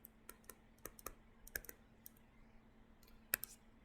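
Calculator keys are pressed in a quick, irregular series of crisp, close clicks, about a dozen taps over a few seconds against a quiet background.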